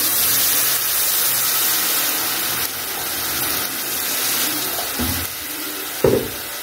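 Water poured steadily into a pot of rice with vermicelli, a continuous close rushing splash lasting several seconds with a couple of brief clunks near the end.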